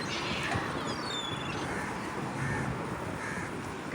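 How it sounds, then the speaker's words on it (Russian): Seagulls call in a city near a mosque in Muscat, Oman, with several faint, distant cries over a steady wash of outdoor ambience. "Чайки."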